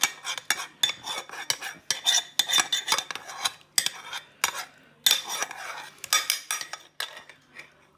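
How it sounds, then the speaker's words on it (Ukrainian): Pancake batter of kefir and eggs is whisked in a bowl, a brisk run of metal-on-bowl clinks and scrapes, close and clear, with no talking. "Знову збиваємо."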